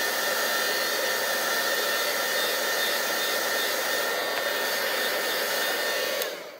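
A heat tool blows a steady, loud, rushing whoosh close up while drying a freshly stamped card from the back, running continuously before switching off at the very end, with no talk over it.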